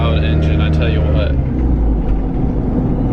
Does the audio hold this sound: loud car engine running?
yes